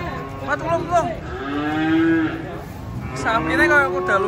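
An agitated white cow being unloaded from a truck lets out several drawn-out moos, fairly close, with rising and falling pitch and crowd noise faintly in the background.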